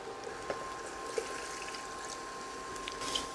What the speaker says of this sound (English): we're going to add a cup of cold water